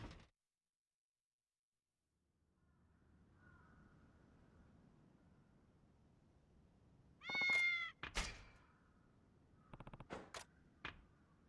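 A cat meows in the samurai video game Like a Dragon: Ishin!, a few short, clear meows after a quiet stretch of low ambient hum, followed by scattered sharp clicks.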